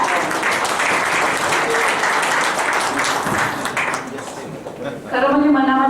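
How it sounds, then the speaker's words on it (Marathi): Audience at a closing felicitation ceremony applauding, a dense sustained roar of many hands clapping that tapers near the end as a voice starts speaking over it. "त्याच्याबद्दल आपण सगळ्यांनी उत्स्फूर्तपणे टाळ्या"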